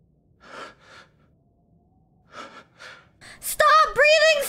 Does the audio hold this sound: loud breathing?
yes